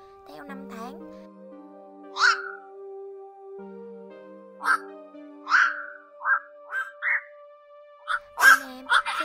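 Night heron calls played for net trapping of birds: a run of short, harsh, croaking squawks repeated in uneven bursts, fairly loud and close, over a steady low hum with no talk.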